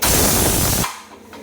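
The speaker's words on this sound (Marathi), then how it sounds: "कुकरला मस्त डाळ भातही लावलाय" A pressure cooker cooking dal and rice releases steam in a loud, steady hiss for almost a second, then cuts off sharply into quiet.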